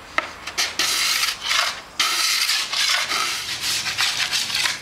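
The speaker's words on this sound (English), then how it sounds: "with quite a bit of pressure, not gentle pressure, lots, you want to just move the plexiglass across the board" A plexiglass scraper drags hard across a waxed snowboard base, shaving off excess wax in a series of loud, rasping strokes with brief pauses between passes, close up and without talk.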